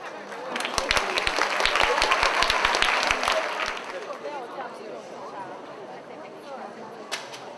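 An audience applauds a harmonica ensemble at a 2007 youth festival concert, loud crowded clapping with a few sharp claps standing out, then thinning and fading into a quieter hall murmur over several seconds.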